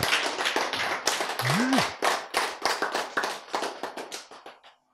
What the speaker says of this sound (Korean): 자, 이럴 때 박수가 나와야지.